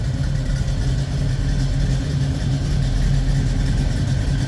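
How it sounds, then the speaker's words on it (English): A 1972 Chevrolet Nova with a 350 V8, a mild cam, an Edelbrock four-barrel carburetor and HEI ignition idles with a steady, deep rumble that stays loud and continuous, with no voices over it. "there's a little rumble coming out of that 350"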